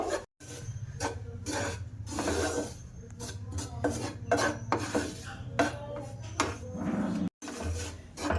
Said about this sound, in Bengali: ময়দাটা ভালো করে ঘি দিয়ে ভাজা করে নেব।